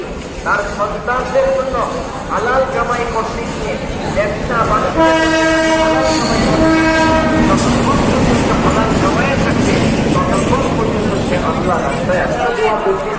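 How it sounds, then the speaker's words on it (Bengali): A commuter train rumbles into Gendaria railway station and sounds a long, loud multi-tone horn, with crowd chatter and track noise around it. "আমাদের ট্রেন এখন চলে এসেছে গ্যান্ডারিয়া রেল স্টেশনে"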